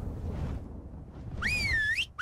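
A character's command whistle in the ARK survival game, a rising then falling tone that bends back up, heard once near the end over steady low game ambience.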